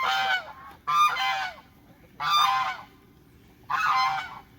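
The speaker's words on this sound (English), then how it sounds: "I've got the guard geese there to protect them from hawks and other predators." Guard geese in a pasture give four loud, close bursts of honking, each a clustered run of harsh calls separated by short quiet gaps over faint outdoor background.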